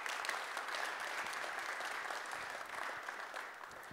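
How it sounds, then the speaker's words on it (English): A conference audience applauds the venue at a Django developer event, a steady dense wash of clapping from many hands that holds evenly for several seconds at moderate distance with no voices. "give them a round of applause again"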